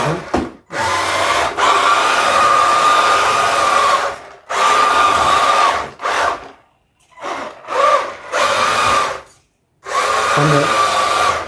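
A cheap all-wheel-drive RC drift truck drives with a loud, high electric motor whine. The whine comes in repeated bursts of varying length, broken by brief gaps as the throttle is pulsed on and off.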